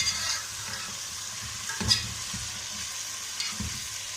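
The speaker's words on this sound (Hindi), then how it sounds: "प्याज के अंदर हमने अच्छी तरह मिक्स करना है। फिर इसको हम फ्राई करने का वेट करेंगे।" Onions frying and being stirred in a pan for biryani, a steady sizzle with a few scraping stirs, close up and continuous with no talking.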